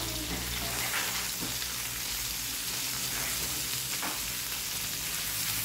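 Beef liver frying with onions in a pan, a steady close sizzle with a few faint stirring scrapes, no speech.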